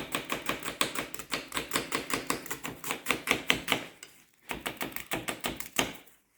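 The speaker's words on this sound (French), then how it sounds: "je vais émincer mes oignons" Knife rapidly slicing onions on a cutting board, a fast, even run of crisp chopping taps that pauses briefly and then resumes at the same brisk pace, close and clear with no voices.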